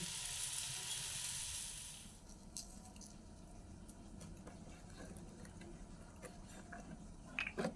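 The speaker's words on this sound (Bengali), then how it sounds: "বাঁধাকপির খুন্তি দিয়েই নেড়ে দিচ্ছি" Cabbage being stirred with a metal spatula in a hot pan, a strong sizzling hiss at first that drops after about two seconds into softer frying crackle with scattered scraping clinks near the end.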